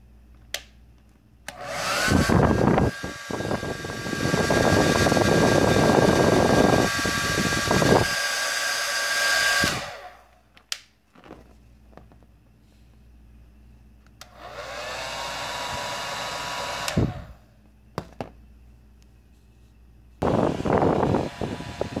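A Vidal Sassoon 1875 hair dryer with a heating fault blows in loud bursts of steady whooshing airflow, switched on and off several times with short quiet gaps and clicks between runs.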